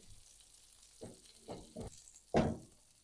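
Quiet sizzling in a pan with a few distinct bursts of sputtering as pieces of rabbit meat coated in flour are moved or turned, the last one louder.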